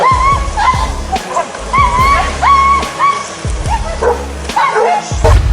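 Several dogs bark, yip and whimper in repeated bursts while fighting an animal in water, with splashing and sloshing mixed in and a voice talking over parts of the scuffle.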